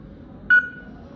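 A single short electronic beep sounds when the # key is pressed on the keypad of a Xingfa AB-26A push-pull smart door lock, clear and close, with a faint lingering tone.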